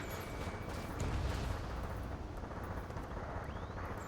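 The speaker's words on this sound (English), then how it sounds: "Gunfire and the roar of jets echoing through the streets." Combat video game scene in a city under martial law, with a dense rumbling roar of jets and rolling explosive booms of gunfire filling the whole stretch, loud and continuous with no voices.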